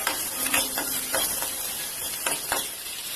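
Garlic sautéing in a pan for a traditional Tamil pori rasam with thuvayal, a soft continuous sizzle broken by several clicking stirs of a utensil.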